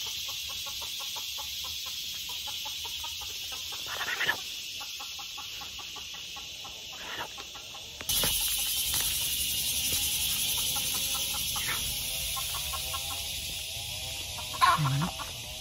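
Hens cluck intermittently against a steady hiss of outdoor ambience, with a few louder squawks and calls scattered through.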